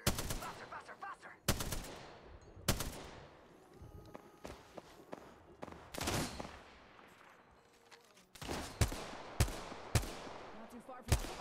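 Gunfire in the battle royale shooter Apex Legends: sharp, loud shots and bursts spaced irregularly across the stretch, with footsteps and game sounds between them.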